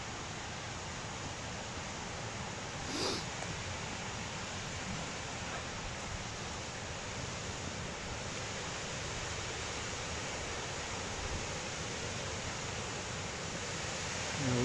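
A waterfall at the end of a woodland walking path in Humford Woods, Bedlington, giving a steady, broad rushing roar that holds evenly throughout without a break.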